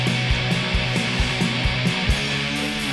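Black metal guitar riff from an album, a dense distorted wall of tremolo-picked guitar with thudding drum hits at a steady pulse, played loud and continuous.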